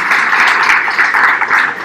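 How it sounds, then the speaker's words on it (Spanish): A crowd at a React Week Medellín 2019 tech conference claps to welcome a speaker, a dense, even wash of applause lasting a couple of seconds. "lo reciban con un aplauso"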